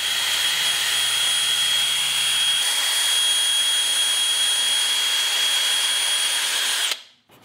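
A power tool fitted with a sanding roll whines steadily as it smooths an engine port, loud and close with a constant high pitch for several seconds before spinning down abruptly at the end.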